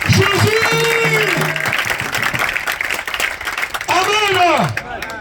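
A church congregation applauds and cheers for Jesus, a steady wash of clapping running throughout while voices chant and sing loudly over it.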